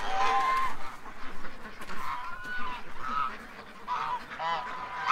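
Geese and ducks by a pond give repeated nasal honks in short irregular bursts, close and fairly loud, with a few quieter calls between them and a light background murmur.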